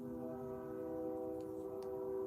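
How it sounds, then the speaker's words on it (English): An approaching train sounds a sustained, steady horn tone that holds for the whole stretch over a low rumble, moderately distant, with no voices. "Got the train coming."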